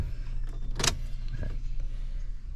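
A Toyota Corolla engine starts after an oil and automatic transmission fluid change: a short, sharp cranking burst, then a steady low idle hum that continues underneath.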